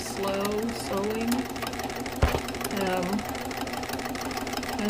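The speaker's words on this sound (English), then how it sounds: "I've just got my foot on the pedal kind of easy. I mean, this to me is kind of slow sewing." A sewing machine runs slowly and steadily during free-motion quilting on a large extension table, its continuous mechanical whir and needle clatter filling the clip with a brief knock midway.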